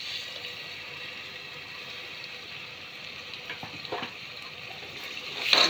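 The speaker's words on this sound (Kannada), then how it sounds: "ನೀಟಾಗಿ ಫ್ರೈ ಮಾಡೋಣ." Ground masala frying in a pan for mango rice: a low, steady sizzle with soft stirring, ending in a brief louder scrape or clatter.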